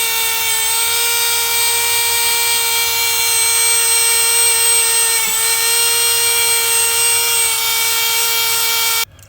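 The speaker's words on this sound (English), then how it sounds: "We got the Dremel. Basically just go back maybe like an inch and clean up any kind of rust that's on the line." Dremel rotary tool cleaning rust off a steel power steering line on a Chevy Trailblazer, a loud, steady high-pitched whine running close and unbroken for about nine seconds before cutting off.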